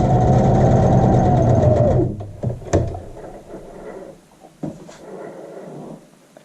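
A sewing machine runs a back stitch on a child's shirt, a loud rapid mechanical whir for about two seconds that stops abruptly, followed by a few clicks and handling knocks as the fabric is moved.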